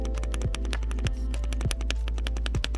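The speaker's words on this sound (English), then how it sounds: "I don't hear any rattles though when tapping on the stabilized keys." Keys tapped one after another on a Yunzii YZ87 tenkeyless tri-mode mechanical keyboard with light Yunzii Milk switches and stabilized keys, a steady run of close, crisp clacks with a few deeper thuds and no rattle, heard alone.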